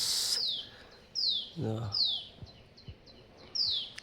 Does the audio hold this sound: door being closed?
no